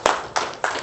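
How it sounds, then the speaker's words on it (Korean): A few handclaps at a Korean-American business friendship forum breakfast: three sharp, evenly spaced claps, close and clear, with nothing else around them. "여러분 큰 박수 부탁드립니다."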